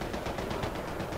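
Rapid bursts of Battlefield 3 gunfire crackle steadily, a dense, continuous rattle of automatic shots with no break.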